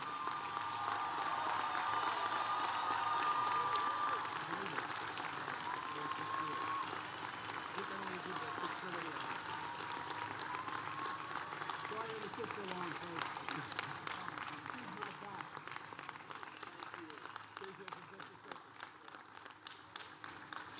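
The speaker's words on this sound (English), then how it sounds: "Let's give the President one more round of applause." A crowd applauds after presidential remarks to an audience that includes troops, with sustained clapping and some cheers. The applause is fairly distant and slowly thins and fades over about twenty seconds.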